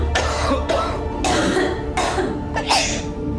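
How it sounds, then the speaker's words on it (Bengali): Dry, tickly cough from a person with a sore throat, several short harsh bursts in quick succession with a little throat clearing, close and alone. "সঙ্গে খুকখুকে কাশি।"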